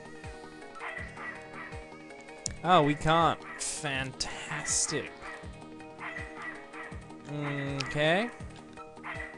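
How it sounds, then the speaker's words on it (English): In the Snatcher cyberpunk adventure video game, a dog barks and yips repeatedly in bursts over background game music, with some whimpering tones, while a person talks briefly. "I guess we better calm the dumb dog down."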